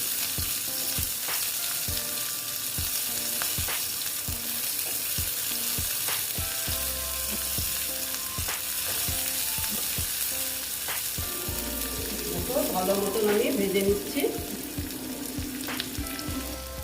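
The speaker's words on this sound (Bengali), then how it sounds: "পিঁয়াজ কুচি দিয়ে দিলাম দিয়ে এটাকে আমি ভেজে নেবো" Chopped onion frying in hot oil with black cumin for an ash gourd dish: a steady, close sizzle with repeated spoon scrapes and taps against the pan, growing busier toward the end.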